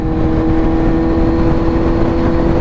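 Steady, droning exhaust note from a Kawasaki Z900 fitted with a LeoVince full exhaust, cruising at highway speed in sixth gear around 5,000 RPM, a constant loud hum with strong low rumble and wind-like whir throughout.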